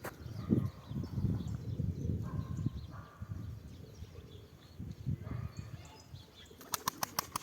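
Wings flap in quick bursts as pigeons take off and flutter nearby, with a few soft rustles between and a sharp rapid clatter near the end.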